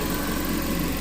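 A car engine idles steadily after a radiator flush, following a mess of wrong fluid and aluminum debris in the cooling system; a low, even, continuous hum runs close by with no talk.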